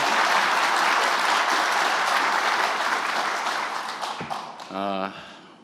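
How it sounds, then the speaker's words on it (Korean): Loud, dense applause from a large crowd fills the Blue House guest hall at a formal event with the president, then thins and fades near the end. A brief voice sounds toward the close. "영빈관에서 진행했던 어떤 행사보다 박수 소리가 큰 것 같습니다"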